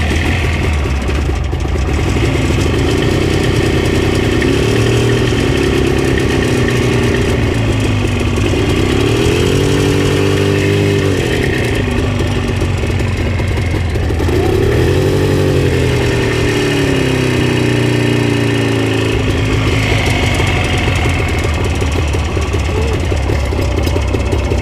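Loud, close motorcycle engine on a sidecar rig, idling roughly, then revving up and down in several swells as it pulls away, a constant heavy rumble that fills the whole stretch.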